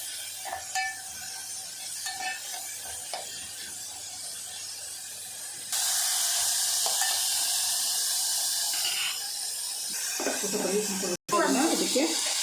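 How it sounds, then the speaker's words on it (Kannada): Sambar masala fries in a little oil for an avarekalu motte sambar, giving a steady soft sizzle with occasional stirring scrapes, growing denser partway through, while a voice talks over it. "ಸ್ವಲ್ಪ ಹಸಿ ವಾಸನೆ ಹೋಗೋ ತನಕ ಅದನ್ನು ಸ್ವಲ್ಪ ಫ್ರೈ ಮಾಡ್ಕೊಳ್ಳಿ."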